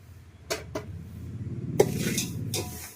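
Ingredients being dry-roasted and stirred in a metal pan for a sweet, with a few sharp clinks and scrapes of a spoon against the pan over a low, steady frying sizzle, close up and without talk.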